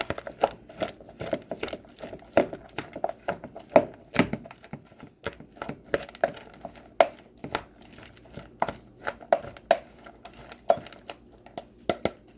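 A dressing being stirred in a bowl, heard as a steady run of sharp clinks and scrapes from a utensil against the bowl, close and fairly loud, with no talking.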